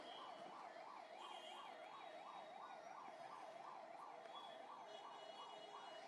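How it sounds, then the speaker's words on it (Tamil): An ambulance siren wails steadily in a fast repeating rising-and-falling pattern, loud and continuous throughout, passing along a road during a political campaign rally in Kallakurichi, Tamil Nadu, with no talk over it. "இனி இப்படிதான் அடிக்கடி இந்த ஆம்புலன்ஸ் போகும்."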